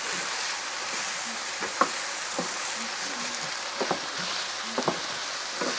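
Steady frying hiss of Japanese curry ingredients in a pan fills the clip, with occasional small pops and crackles breaking through at irregular moments.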